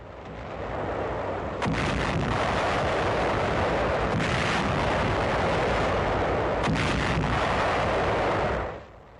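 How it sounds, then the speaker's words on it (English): Heavy naval bombardment of the Lingayen Gulf shoreline in wartime, a continuous dense roar of artillery fire with three stronger booming bursts, loud and close in an old, band-limited recording. "A 3-day naval bombardment of the entire Lingayen Gulf area."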